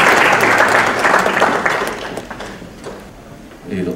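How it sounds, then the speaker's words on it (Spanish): Dense applause fills a seminar room, loud at first and gradually thinning out, with some chatter mixed in. "Lo recibimos con un fuerte aplauso."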